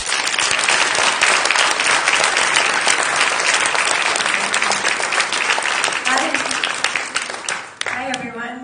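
A talks-event audience greets a guest with loud, dense applause that carries for about seven seconds, then thins out as a voice begins speaking near the end.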